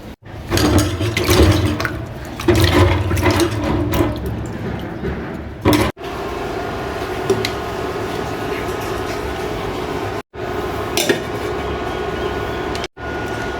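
Chickpeas and a potato washed by hand under running water, a continuous close splashing and rushing of water with clattering bumps, broken by a few brief silent gaps.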